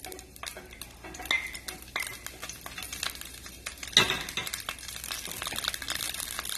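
Garlic sizzles in hot oil in a pan, with metal utensil scrapes, clinks and stirring strokes at an uneven pace, close by and fairly quiet, with no talking.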